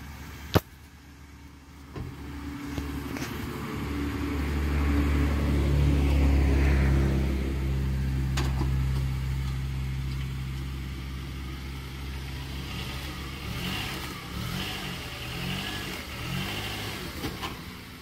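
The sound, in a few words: 2004 Honda Accord driving up onto ramps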